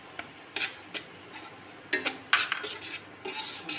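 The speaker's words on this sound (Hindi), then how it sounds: "थोड़ी देर सूजी को भूनेंगे" Semolina being stirred and roasted in a hot kadhai, a spoon scraping and clinking against the metal in irregular close strokes with faint sizzling between.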